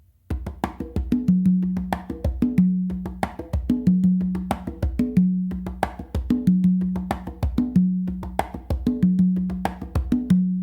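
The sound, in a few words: songo variation on congas with one tumba hit removed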